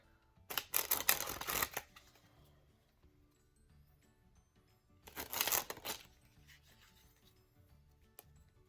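Two bursts of Theory Eleven Artisans playing cards being sprung from hand to hand, each a dense rapid flutter of card snaps lasting about a second, close and crisp, with quiet handling between.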